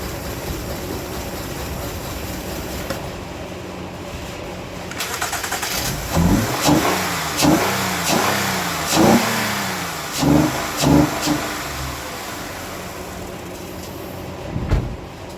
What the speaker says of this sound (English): start it back up, and show you that it revs up good.